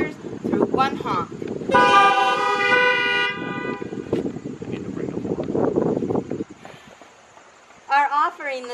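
A single long car horn blares for over a second amid idling engine noise and murmuring voices during a Sunday church service, with short honks returning near the end.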